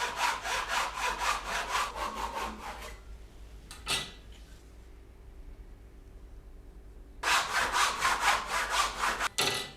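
A handsaw cuts wood for a guitar nut during a guitar build, with steady rhythmic back-and-forth strokes for about three seconds, a pause broken by one short scrape, then another run of close, loud strokes.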